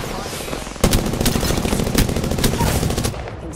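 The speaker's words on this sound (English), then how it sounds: "I think someone's targeting me. Getting shot at." Rapid automatic gunfire from a squad-based shooter video game, loud and sustained, crackling bursts running continuously after a sudden onset, with the player caught under fire.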